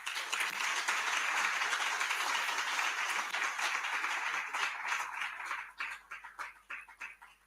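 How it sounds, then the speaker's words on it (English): Audience applause after a governor's address at a public event, steady, dense clapping that fills the room before thinning into scattered individual claps near the end. "A round of applause for Ms. Governor again."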